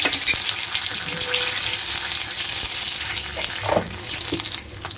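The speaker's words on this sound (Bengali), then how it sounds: "কড়াইতে তেল গরম হয়ে গেছে, আমি তেজপাতা দিয়ে দিলাম, দুটো এলাচ দিয়ে দিলাম" Bay leaf and two cardamom pods frying in hot oil in a wok, a close, steady sizzle with a few spattering pops and stirring sounds, no voices.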